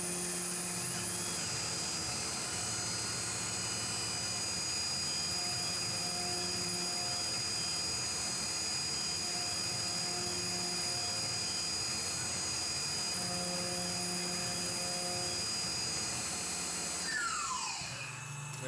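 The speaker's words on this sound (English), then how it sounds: "Chamfering all the burrs." Chamfering tool working burrs off metal in a knifemaking shop, a steady high whine with tonal hum, continuous and fairly faint, ending in a sweeping pitch drop as it spins down.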